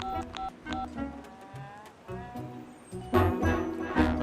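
A series of short electronic mobile phone keypad tones, pressed in quick irregular succession like dialing a number.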